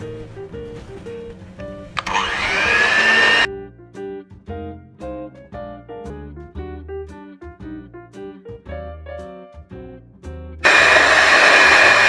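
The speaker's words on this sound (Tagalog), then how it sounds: "I'm going to use this electric mixer." An electric mixer whisks oil into an emulsion, making a loud, close motor whir in two bursts. Between the bursts, quieter clattering and tapping is heard.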